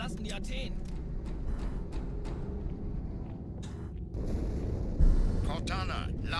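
A large explosion inside the ship Athens in the Halo 2 video game sounds as a deep, sustained rumbling roar with scattered sharper cracks, swelling into a heavier blast about two-thirds through.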